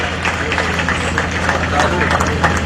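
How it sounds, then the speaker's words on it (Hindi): Audience at a police trainee passing-out ceremony applauding trainees: continuous loud, dense clapping from a large crowd, steady throughout with a low hum beneath. "सब लोग जोरदार तालियों से इन ट्रेनीज का स्वागत करें"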